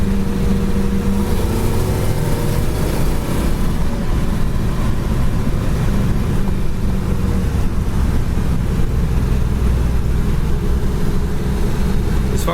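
Steady, loud rumble of a 1968 Pontiac Firebird cruising down the road at highway speed, with engine drone, road noise and wind roar constant throughout and no talking.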